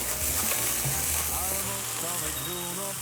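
Ground beef sizzles steadily in a hot pan with onion and garlic, stir-fried for beef fried rice. The frying crackles loudly and continuously up close.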